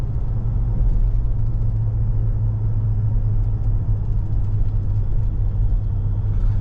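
A 2020 Toyota Tacoma 4x4 pickup pulls under load in third gear, its engine giving a steady, deep rumbling drone with road noise inside the cab, with no talk.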